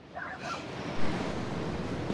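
Sea waves break and wash over a sandbar at Blackpool's Gynn wall on the UK coast, a steady broadband roar of surf with wind noise rushing across the microphone and no voices.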